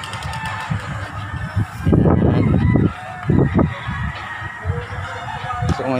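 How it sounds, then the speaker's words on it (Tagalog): Fowl in a backyard poultry coop honk and squawk in loud, close bursts, with several calls overlapping and a faint voice underneath. "Ayan, dito tayo sa manukan namin."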